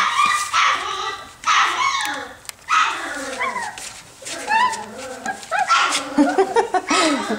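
Several puppies sitting in water yip, whimper and bark in quick, overlapping bursts, close and lively, with a person's voice mixed in among them.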